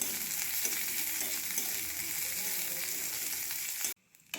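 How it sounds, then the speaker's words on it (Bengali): Chopped small onion sizzles steadily in hot mustard oil with nigella seeds, a loud, even crackling hiss that cuts off abruptly near the end, leaving near quiet. "পেঁয়াজ কুচিটা সামান্য একটু ভেজে নিচ্ছি।"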